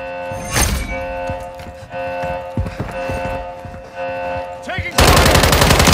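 Gunfire in Call of Duty: Modern Warfare 3 war mode: scattered thumping shots and impacts, then a sustained loud rapid burst of automatic fire near the end, with brief voice callouts.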